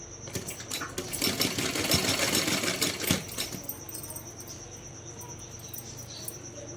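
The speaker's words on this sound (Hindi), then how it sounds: "इस तरह से सभी धागों को कपड़े को अंदर की साइड फोल्ड करते हुए सिलाई लगा लेंगे।" A sewing machine stitches folded fabric for a small dress in a loud, fast, rattling run that lasts about three seconds, then stops, leaving a quieter hum.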